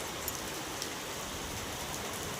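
Small hailstones and heavy raindrops pour down in a dense, steady hiss, with a couple of sharper impacts standing out near the start.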